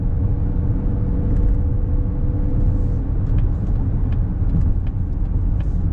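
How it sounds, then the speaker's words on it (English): Inside a 2025 Mazda CX-50 on the move, a steady low road rumble and soft wind hiss fill the cabin, with a few faint ticks and rattles over the drone. "You get a little wind noise, you get a little road noise, but not bad."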